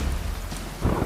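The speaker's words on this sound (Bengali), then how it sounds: "মাঝে মাঝে মেঘ ডাকার শব্দ শোনা যাচ্ছে।" Thunder rumbles low and deep through steady heavy rain on a stormy night, swelling near the end over the constant hiss of the downpour, with no speech.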